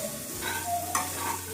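Chicken with chopped onion, garlic, chilli and ginger fries in a pan, giving a steady sizzle with soft scraping stirs and a brief sharper clatter midway, close and moderately loud with no talking.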